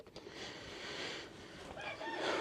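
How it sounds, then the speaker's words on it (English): Silver-laced Wyandotte chickens cluck softly nearby, with a few short bursts of clucking over a quiet outdoor background, no speech. "you guys might have noticed we got some red chickens out there"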